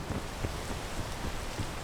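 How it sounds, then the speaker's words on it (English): Steady, faint rain pattering in the PEAK video game, an even hiss of drops with light wind and no voices. "Ah, the rain. It's getting us again, getting us all soggy."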